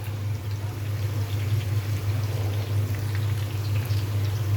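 Food frying in a pan over a raised flame gives a steady, dense sizzle that hisses evenly throughout, close and fairly loud, with a low hum beneath and no voices.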